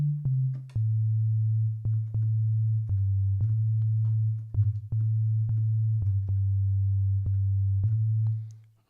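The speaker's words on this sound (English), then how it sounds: "I chose just a simple sine wave" A simple sine wave synth tone in Ableton sounds as a pure, low, steady hum, starting slightly higher before settling, broken by faint clicks and a brief wobble midway, then fading out.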